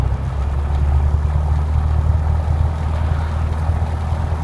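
A Robin DR400 light aircraft with a 160 hp engine runs at 1200 rpm with the parking brake set, giving a steady, loud low rumble that stays even throughout, with no talking.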